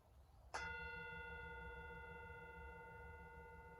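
A single gong strike during a yin yoga session rings out softly and clearly, then its bright, sustained tones slowly fade over several seconds against a low room hum.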